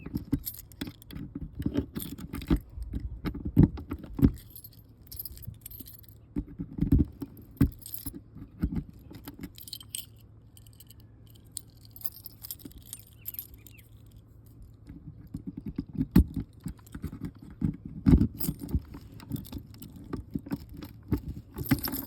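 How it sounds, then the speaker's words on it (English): Keys jangling and clinking in bursts with short pauses between, close up, as someone sorts through a key ring to find the right one at an open storage area, with faint vehicle rumble behind. "Now I just have to figure out which key."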